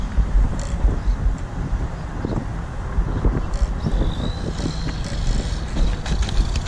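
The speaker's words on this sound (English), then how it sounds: "It's kind of windy out here" Steady outdoor wind at an RC car jumping spot buffets the microphone, a constant rumbling roar with gusts and no voices.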